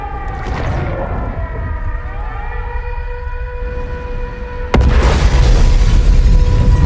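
A loud in-game explosion in StarCraft II co-op mode erupts suddenly after a stretch of droning, siren-like tones, a heavy booming blast with a rumbling tail during a missile-bombardment mission.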